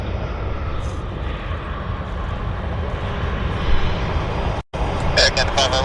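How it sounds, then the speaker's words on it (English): An airplane taxis on the runway at Vancouver airport, a steady loud engine rumble and roar throughout, with a brief dropout near the end. "as soon as this aircraft taxis off the runway"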